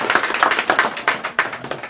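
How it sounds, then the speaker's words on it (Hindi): A crowd claps steadily in a brief burst of applause, many hands close together in quick, uneven rhythm. "आप सभी जोरदार तालियों से एक बार स्वागत करें।"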